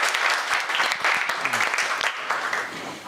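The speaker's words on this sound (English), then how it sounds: "Ladies and gentlemen, a big round of applause for my guest tonight" Lively audience applause for a guest at an evening talk in Singapore, a burst of many hands clapping close and loud, with a few voices faintly mixed in beneath it.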